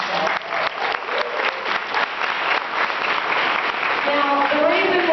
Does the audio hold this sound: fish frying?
no